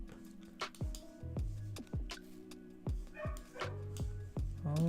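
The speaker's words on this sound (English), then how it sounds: "Oh, my dog's going crazy." A dog barks indoors in a series of sharp, separate woofs at an uneven pace, some mixed with whiny yips, moderately close and with no talking over them.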